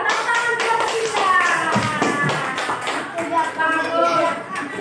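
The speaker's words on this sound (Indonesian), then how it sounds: "tepuk tangan kelompok 3" First-grade schoolchildren in a primary-school classroom clap for a classmate group in quick rhythmic bursts, with young voices chanting along over the clapping.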